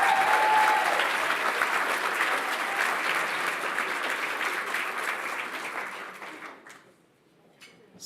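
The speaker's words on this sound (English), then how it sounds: "Let's give them another warm round of applause." A celebration audience at the 10,000 Degrees 2022 Alumni Changemakers event gives a warm, dense round of applause that holds strong for several seconds, then thins and fades away near the end.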